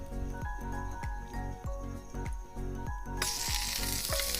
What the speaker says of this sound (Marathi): डायरेक्ट कमलावरती फ्राय करायला घेऊया